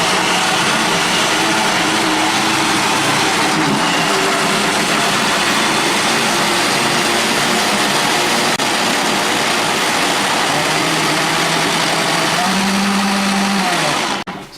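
A blender whirs with its lid on while a pepper spins around inside, a loud continuous motor drone with a shifting tone near the end before it cuts off.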